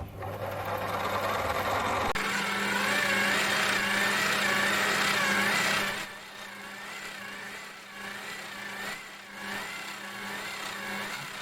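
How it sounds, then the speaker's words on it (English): A drill bores a 5 mm hole into the end of a steel axle shaft for a bench-top belt sander build, a steady whirring motor hum with a pitch and level change midway, running alone without speech. "now I'm starting to drill a 5 mil hole for a 6 mil thread in this end"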